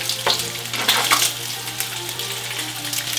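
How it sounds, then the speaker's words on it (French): Bacon frying in a pan as its fat renders, a loud, close, steady sizzle with sharp crackles and a few spatula scrapes early on, no voices. "on va faire fondre le gras du bacon tranquillement. Le bacon commence à chanter des bonheurs"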